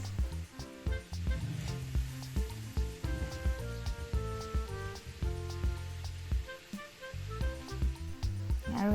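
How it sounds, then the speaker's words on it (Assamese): Namkeen fries in hot oil over a medium flame, a steady crackling sizzle running throughout with busy bubbling texture and occasional clinks. "এই গোটেইখিনি নামকিন ইয়াতে ভাজি ল'ম নিমকি আমি যেনেকৈ ভাজো তেনেকৈ ভাজি ল'ম মিডিয়াম ফ্লেমত"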